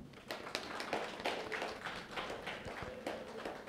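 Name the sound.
audience clapping at meditation event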